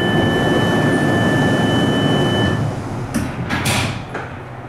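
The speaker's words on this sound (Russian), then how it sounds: "Doors are closing." Underground cable train doors at Moscow Sheremetyevo airport slide shut with a couple of quick hissing thumps after a steady mechanical hum and a faint electronic tone.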